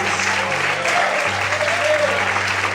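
A church congregation claps and applauds the Lord during an evening Pentecostal-style service, a steady dense wash of hand claps with a low sustained organ or keyboard drone underneath.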